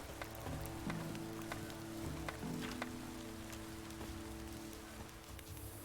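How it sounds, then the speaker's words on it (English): A heavy rain downpour in the video game The Witcher 3: Wild Hunt makes a dense, continuous hiss of drops hitting surfaces. Low sustained tones hum underneath. "Proper downpour this is."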